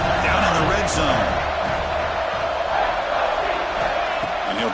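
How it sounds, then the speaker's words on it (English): A football stadium crowd roars steadily for the home defense in the red zone, a dense, sustained wash of cheering and shouting, heard under a commentator's voice throughout. "And the crowd coming to life here trying to help this defense down in the red zone."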